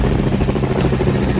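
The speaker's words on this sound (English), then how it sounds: "They'll fly the giant Chinook helicopters, both here and in the real theater." The rotors of a giant Chinook military helicopter pound in a loud, close, continuous throb with dense rhythmic chopping, heard alone for a short stretch.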